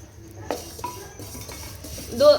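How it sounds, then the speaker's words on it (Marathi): Metal spoon scraping and clinking against a pan as sesame seeds go in for a bazaar amti on a wood-fired stove, a few sharp taps over a low background hum and faint sizzle. "ह्यात तीळ टाकणार आहे मी"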